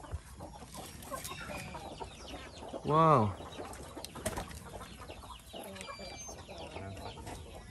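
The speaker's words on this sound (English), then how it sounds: "Oh, look at the chicken." A chicken on a farm gives one loud, close cluck midway through, amid outdoor background noise and scattered softer bird calls, while a person speaks briefly.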